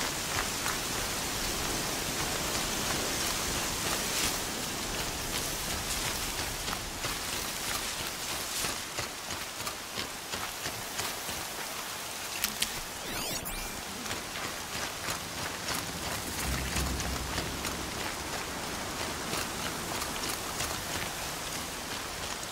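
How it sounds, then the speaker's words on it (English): Heavy rain pours down in Horizon Zero Dawn, a dense, continuous hiss of drops that stays loud and even throughout, with a brief clatter partway through. "Rain's too loud to hear much."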